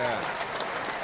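Studio clap track playing a burst of canned applause and crowd clapping on a radio talk show, loud and continuous for about a second.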